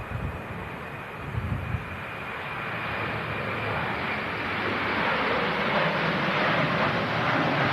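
Finnair jet airliner departing in stormy weather, a broad engine roar that swells and grows louder toward the end, mixed with gusting wind noise, no talking.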